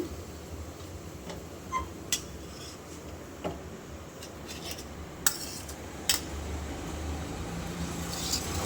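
A spoon clinks lightly against a dish as raw onion is added to curd, giving sparse, faint metallic taps and scrapes scattered over a quiet kitchen background.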